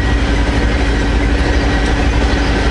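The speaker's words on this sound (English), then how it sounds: "brand new train cars here, no graffiti on them yet." A train of brand new rail cars passing close by in British Columbia, a loud, dense, steady rumble and rolling clatter of wheels on track filling the whole stretch.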